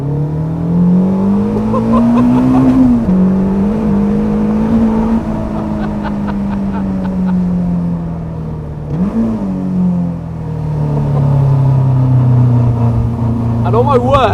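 A Caterham 420R sports car engine roars and revs up through the gears, pitch climbing and dropping loudly at close range, with a voice talking over it.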